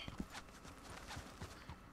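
Horse hooves pounding at a run in the Red Dead 2 video game, a quick rhythmic clip-clop of repeated thuds, fairly faint and steady, heard without talk.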